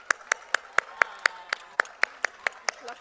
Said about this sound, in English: Can we give a happy birthday round of applause to BASA and Ashraf?